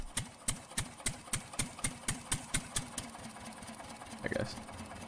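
A tractor engine in the Farming Simulator 2017 video game cranks and starts with a rhythmic chugging, then settles into a rougher idle near the end, loud and close.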